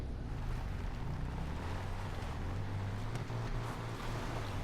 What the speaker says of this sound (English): it sounds like this thing has a fucking motorcycle engine anyways